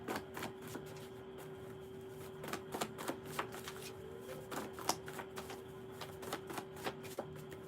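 Tarot cards shuffled and drawn: soft, papery flicks and quiet snaps scattered irregularly over a faint steady hum, close by and low in level.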